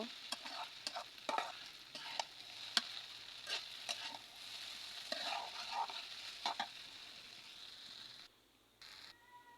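Chowmein with coriander leaves is tossed in a pan, with repeated sharp clacks and scrapes of a spatula against the metal over a faint sizzle. The stirring stops near the end, leaving quiet.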